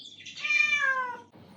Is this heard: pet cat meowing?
yes